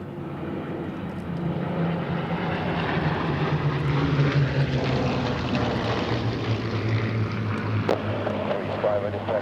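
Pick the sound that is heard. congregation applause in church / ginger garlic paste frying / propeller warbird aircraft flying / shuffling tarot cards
propeller warbird aircraft flying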